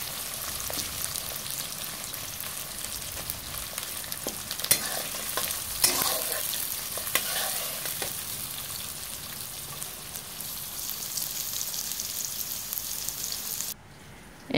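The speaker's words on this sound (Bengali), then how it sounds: "এখানে পেঁয়াজগুলো ঢেলে দিলাম, পেঁয়াজগুলো একটু ভেজে নেই" Onions sizzle and fry steadily in a pan, a continuous close crackling hiss with occasional stirring scrapes and clinks, no talk over it.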